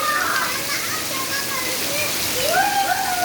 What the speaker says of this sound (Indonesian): Nah, hujan-hujanan.